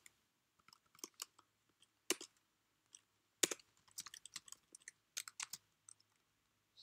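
LaTeX code is typed on a computer keyboard in quiet, uneven bursts of soft clicks and taps, faint and close, with brief pauses between keystrokes and no talking.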